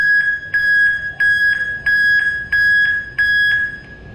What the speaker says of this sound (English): And now for our Peterson backup alarms, it's gonna be about 112 decibels,